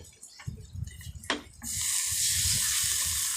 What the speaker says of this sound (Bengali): এরপর আমরা এতে একটু জল ইউজ করব।